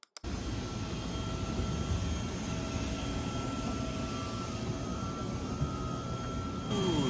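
A jet airliner's engine hums and whooshes steadily at close range at an airport on the Big Island of Hawaii, a continuous broadband roar with a faint high whine and no talking.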